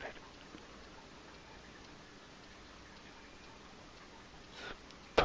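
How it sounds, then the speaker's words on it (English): Rain falling on a cold, foggy night outdoors, a faint steady patter with soft scattered drops and an occasional closer tap. "But now I hear it's just raining."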